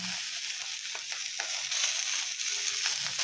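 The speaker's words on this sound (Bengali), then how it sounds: "দেখো তেল ছাড়াই ভেজে নিচ্ছি।" Chicken skin fries in a heated kadai with no oil added, giving a steady, close sizzle that runs throughout with a few faint pops, and no one speaks.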